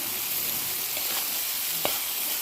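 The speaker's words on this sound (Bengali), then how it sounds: "মাছগুলো এবার দিয়ে ভালো করে হালকা হাতে নাড়াচাড়া করব" Fish pieces frying in oil in a pan for a Bengali gandhara fish curry, a steady close sizzle with a faint utensil knock near the end as the fish is gently turned.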